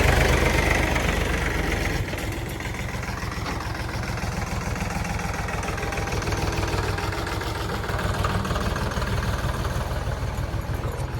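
A tractor engine runs close by with a steady, low throbbing rumble and a knocking idle rhythm, loud and continuous throughout.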